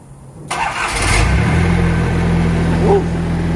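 A car with a straight-pipe side exhaust cranks and fires up abruptly, then settles into a loud, deep, throbbing idle that carries on close by to the end.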